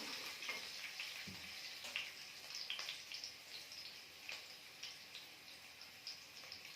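Ingredients frying in a little oil for masala idli: a soft, continuous sizzle with small crackles and pops throughout, fairly faint and with no talking.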